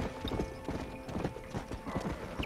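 Horse hooves clip-clop in the Red Dead Redemption video game, a quick irregular run of close, fairly loud hoofbeats with a whinny mixed in and faint talk in the background.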